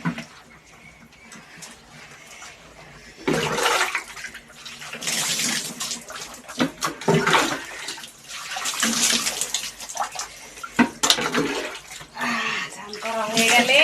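Water splashes and pours during a bath, with bursts of sloshing and dumping that rise and fall irregularly under occasional nearby talk.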